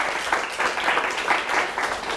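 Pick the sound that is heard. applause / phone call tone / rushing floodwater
applause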